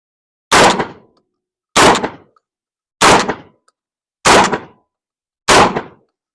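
A Tokarev TAR12 shotgun fires buckshot in five loud, sharp blasts spaced about a second and a quarter apart, each with a short ringing decay and no talk between them.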